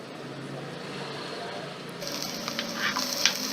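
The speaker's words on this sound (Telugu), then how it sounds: "అల్లం వెల్లుల్లి పేస్ట్ కూడా పచ్చివాసన పోయేంత వరకు వేపుకోవాలి." Ginger garlic paste frying with onions in a pan for a cucumber kurma, a steady close sizzle with occasional stirring scrapes that grows louder and brighter partway through.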